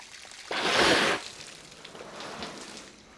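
Water gushes into the radiator of a Massey Ferguson 65 tractor during back flushing, a short loud rushing splash lasting about half a second before dropping back to a quieter trickle.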